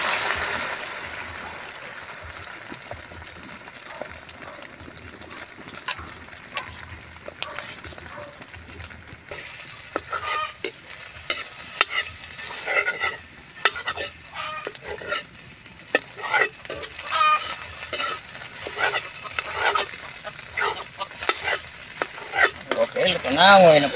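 A beaten egg fries in a pan for a home-style Filipino cabbage-with-egg dish. A steady sizzle runs throughout, with repeated scraping and clicking from a utensil stirring against the pan, growing busier in the second half.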